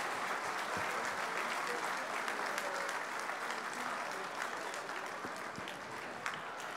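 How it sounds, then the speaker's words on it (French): Crowd in a stadium applauding the Australian team at the opening ceremony of the 2019 WAC world championship, a broad, steady roar of many hands clapping at a distance, continuous and even, with faint voices mixed underneath. "On peut les applaudir bien fort, s'il vous plaît."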